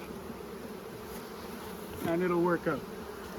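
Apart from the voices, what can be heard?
honey bees buzzing after being shaken into a hive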